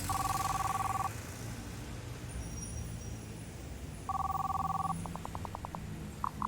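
A telephone rings during a call: two long electronic ring bursts about three seconds apart over a low background hum, followed by a quick run of short tonal pips.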